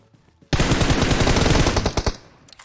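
Rapid automatic gunfire from a mobile battle royale game such as Free Fire or PUBG Mobile, a loud sustained burst of shots lasting about a second and a half, then tapering off.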